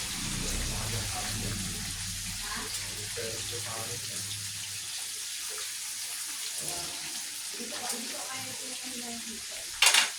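Breaded milkfish (bangus) frying in a pan of oil, a steady close sizzle with stirring and scraping noises, fading slightly midway, ending in a brief sharp clatter, with some talk in the background.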